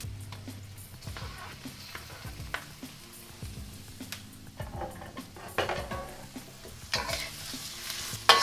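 Shrimp sizzle in a pan with translucent onions while being stirred, a constant frying hiss broken by repeated scrapes and clinks of a utensil against the pan, close and busy.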